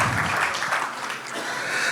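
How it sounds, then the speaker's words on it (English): Audience applause filling a hall after a founder is introduced on stage, a steady dense wash of clapping lasting a couple of seconds. "Please, a round of applause for Dr."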